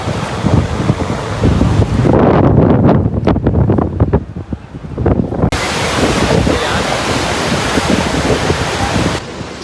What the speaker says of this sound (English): due to high winds, look at the waves